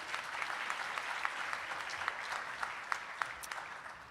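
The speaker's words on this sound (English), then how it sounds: "Let's give a round of applause for Asia Stallings" An awards-ceremony audience applauds a faculty and staff award nominee, a steady, moderately faint wash of clapping hands with a few sharper claps standing out, no talking over it.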